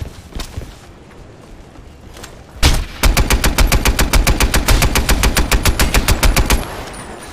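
In Crysis 3 multiplayer, a single shot rings out, then a loud, steady burst of rapid automatic fire pounds out evenly for several seconds before stopping.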